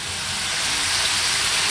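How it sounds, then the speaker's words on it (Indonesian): Wonton skins frying in hot oil give a steady, close sizzling hiss that stays even and unbroken throughout. "nih kita goreng lagi ya"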